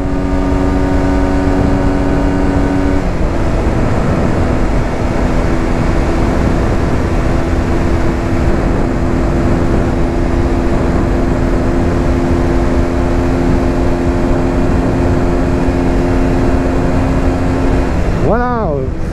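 A 2020 Aprilia Tuono 125 cc motorcycle holds a steady, loud engine drone at high speed under rushing wind, with a gear change shifting the tone early on and again near the end.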